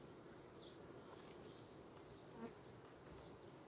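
Honeybees buzz at the frames of a small colony that has lost its queen. A faint, steady, close hum runs the whole time with no voices.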